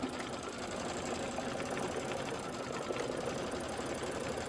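An embroidery sewing machine quilts the outer border strips of a Kimberbell Candy Corn quilt in the hoop with green thread, running in a steady, fast mechanical chatter that stays close and even throughout, with no talk.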